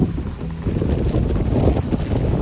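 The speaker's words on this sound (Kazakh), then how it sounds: "Дала жел болып тұр еще." Wind gusts buffet the microphone outdoors near a children's playground, a steady low rumbling roar with rising and falling surges throughout, with no voices.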